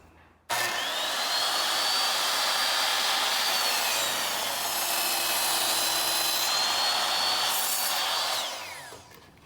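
A power tool cuts through metal siding for a raised garden box, a loud, sustained high-pitched whining grind that starts suddenly, holds steady for about eight seconds, then winds down.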